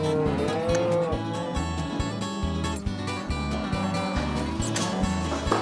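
Several cows moo loudly and repeatedly, deep drawn-out calls overlapping one another close by, with continuous bellowing throughout.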